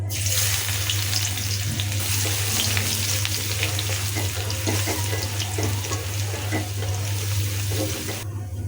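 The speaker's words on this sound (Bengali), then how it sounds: "দিচ্ছি গোটা জিরা, একটা শুকনা মরিচ, দিয়ে দিচ্ছি রসুন কুচি" Whole cumin, a dried red chili and chopped garlic frying in a little oil for dal, giving a steady close hiss and sizzle with a low hum beneath, and no talk over it.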